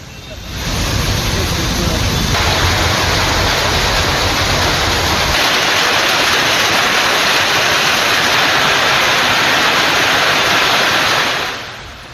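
The Thirparappu waterfall in Kanyakumari roars as a dense, steady rush of water. It is loud and unbroken for about ten seconds, then fades at the end.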